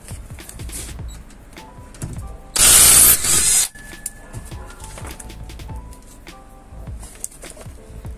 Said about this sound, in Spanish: nada más le voy a meter pistola de impacto para sacarlo